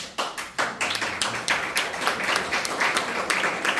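An audience at a municipal meeting applauds after mention of affordable housing funding, a loud, dense round of clapping from a small crowd that stays steady throughout.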